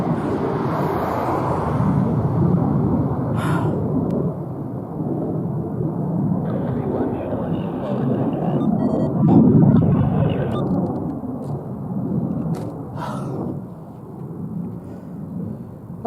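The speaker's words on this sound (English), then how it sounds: "That's 2 F-16s." Two F-16 fighter jets pass over Lakenheath, a loud, continuous roaring rumble that holds throughout and swells to a peak near the middle, with brief clicks and knocks nearby.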